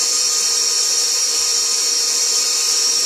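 Electric mixer fitted with a paddle beating buttercream, a loud steady high-pitched motor whine that holds constant and close without a break.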